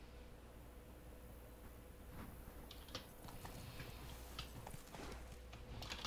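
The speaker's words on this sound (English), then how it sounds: "Run, Roach." Galloping horse hooves from The Witcher 3: Blood and Wine, a quick irregular run of soft clip-clop beats over a steady ambient game background, fairly faint and continuous throughout.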